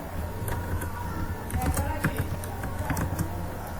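Quick, steady keystrokes on a computer keyboard while a poster design is laid out, with close clicks over a faint background hum and no clear speech.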